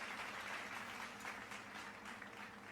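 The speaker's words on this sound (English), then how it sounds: "y'all should be able to hear clapping" A clapping alert sound effect on a live stream of Animal Crossing plays as steady crowd-like applause, a continuous rattle of many hand claps at moderate volume with slight swells.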